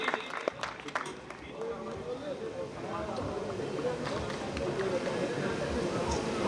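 Sustained applause from an audience at a Hindi kavi sammelan poetry gathering, building steadily into a broad, even clatter of many hands, with a voice speaking over it.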